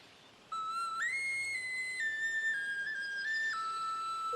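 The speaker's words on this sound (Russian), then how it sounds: "Подходи, честной народ, кому свистули, веселые, резные." Carved wooden toy whistles blown at a folk market fair, a clear steady whistle tone sliding up then holding and stepping between pitches, loud and continuous with no talk.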